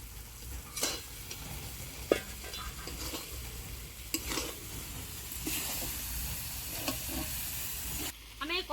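Potatoes fried with spices in a pan crackle and sizzle steadily while a spatula stirs and scrapes, giving occasional sharp clinks and scraping strokes, close and moderately quiet, with no talking.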